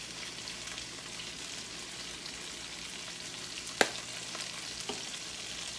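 Chicken thighs fry in a pan with a steady, fairly quiet sizzle, broken by a sharp clack and a couple of softer knocks as they are flipped; no voices.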